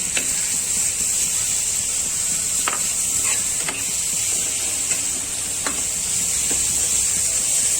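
Grated carrot is sautéed in ghee in a pan for carrot halwa, giving a steady close sizzle and hiss broken by repeated scraping stirs from a spoon, with no talking.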